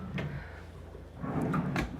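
Dresser drawers in a hotel suite slide open and shut. The soft wooden thumps and scrapes come close by and moderately quiet, with one knock early on and a cluster of bumps toward the end.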